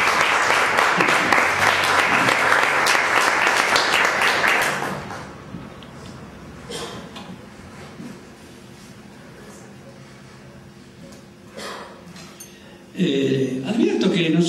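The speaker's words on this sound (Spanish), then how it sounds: "aplauso a Jesús" A church congregation bursts into applause, loud and dense for about five seconds, then fades to scattered claps and murmuring before a voice returns near the end.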